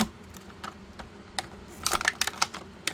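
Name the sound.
clipping plastic toy accessories off a sprue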